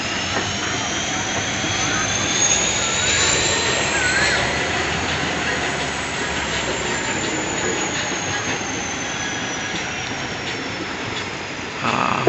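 The Nagaland Express pulls out of Khumtai station, a steady broadband rumble of rolling wheels and carriages with a windy rush, holding loud and even throughout, with a slight swell near the end.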